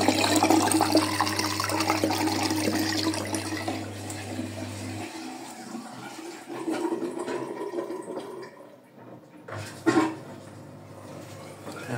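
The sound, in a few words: washing machine running with water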